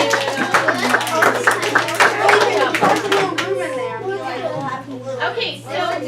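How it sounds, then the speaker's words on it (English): A fifth-grade class claps for a group of students after their igloo presentation, a short burst of fairly close clapping mixed with children's chatter that gives way to a teacher talking. "let's clap for this group"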